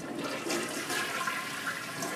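A Mansfield toilet flushing in a restroom, a steady close rush of draining water heard alone throughout.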